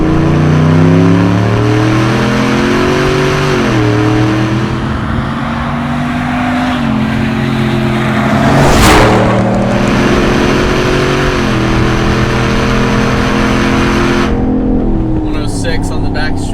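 A supercharged 2020 GMC Sierra Hennessey Goliath 700 pickup with 700 horsepower accelerates hard at speed, its engine note climbing through repeated gear shifts with a loud, continuous roar, a brief whoosh passing midway, and voices speaking over the drive.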